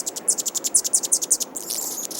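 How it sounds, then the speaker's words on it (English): A rapid series of sharp, high chip notes from an Anna's hummingbird, evenly spaced and fairly close, with no talking. "The typical call note of both sexes is a sharp chip,"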